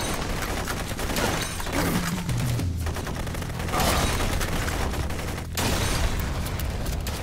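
Sustained gunfire from a weapon in the video game Blue Estate, a dense, continuous rattle of shots with brief gaps, loud and constant throughout.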